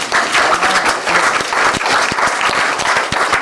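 A crowd applauds steadily, a dense patter of many hands clapping at an even, sustained level.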